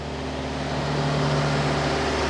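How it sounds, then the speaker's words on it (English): Steady engine hum and low rumble of cars in a hotel parking lot near Disney Springs, constant and moderately close, with no talking. "right now I'm walking in the parking lot"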